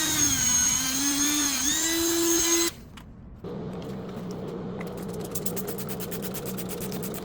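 A copper-plated 3D printed pendant is polished with red rouge on a rotary tool, giving a steady high whine that cuts out briefly and then returns as a rougher buzzing grind, close and fairly quiet.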